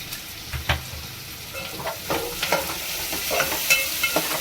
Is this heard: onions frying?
yes